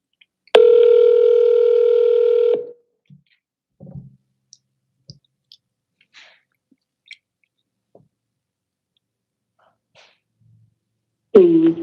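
A loud, steady telephone line tone sounds for about two seconds as a call is placed again. It is followed by sparse faint clicks and a long quiet stretch, with a brief burst of sound at the end.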